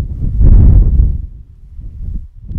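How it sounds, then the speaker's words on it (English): Wind gusts beside a river, buffeting the microphone in a loud low rumble that swells and then eases off. "It's going to be a bit windy here."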